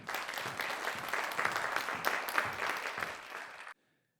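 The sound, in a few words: applause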